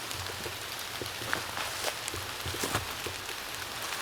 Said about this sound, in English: now we've got quite a lot of rain, quite heavy rain actually